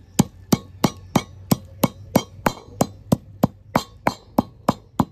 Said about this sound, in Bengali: এবারে পাতাটা শিলনোড়ার মধ্যে ভালো করে বেটে নেব।